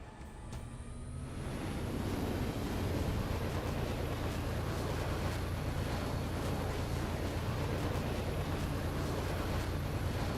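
A modded Condor aircraft engine in Halo 3 swells into a loud, steady roaring rumble that holds with a constant whine on top, heard alone.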